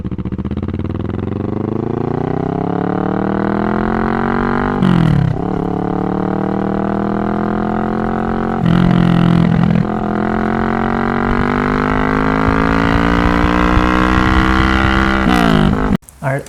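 A motorcycle engine drones and rises steadily in pitch as it accelerates through several gear changes, with wind noise throughout and short breaks at each shift.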